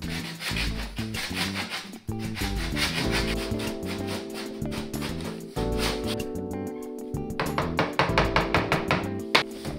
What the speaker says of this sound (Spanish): con el serrucho vamos cortando la parte inferior de las molduras